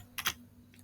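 A computer keyboard gets two quick, close keystrokes in a row while an SQL ALTER command is typed, then one faint tap follows in a quiet room.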